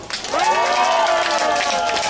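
A crowd claps and cheers at an election campaign rally for a county governor candidate, a steady dense wash of applause with a faint tonal hum running beneath it.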